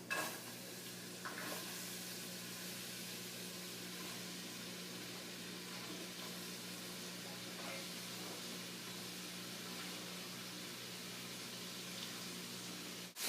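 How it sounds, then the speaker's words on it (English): Vegetables, including onions, cook down in olive oil in a pan, producing a continuous soft hissing sizzle with a couple of faint stirring scrapes, steady and close, with no talking. "we take the veggies and we go ahead and cook those down some"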